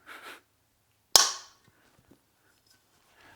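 A single sharp metallic tap of a ratcheting hammer on a screwdriver tip against metal on a supercharged FZ1 motorcycle rings out once, close and loud, then fades quickly into near silence with a few faint small knocks.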